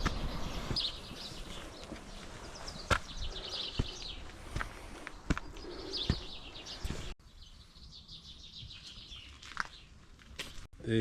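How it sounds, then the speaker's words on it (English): Faint native forest birdsong, chirps and calls in the distance over a soft outdoor background on the Hakarimata Ranges in New Zealand, with occasional footsteps and rustling nearby. "we are enveloped by the harmonious sounds of nature, the melody of the native birds"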